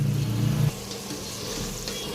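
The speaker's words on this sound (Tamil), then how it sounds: "இப்போ வந்து நல்லா வேகுது. ஒரு பாதிக்கு மேலே வெந்துருச்சு வெஜிடபிள்ஸு." Vegetables for mint pulao cook in a pan, a steady close sizzle and bubbling with a low rumble that drops after a moment and settles into gentler frying.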